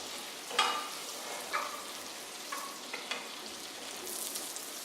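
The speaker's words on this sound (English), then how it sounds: "Saute the onions for a couple minutes." Onions sauté in butter in a pan for pumpkin soup, a steady close sizzle with periodic louder stirring scrapes and no talking.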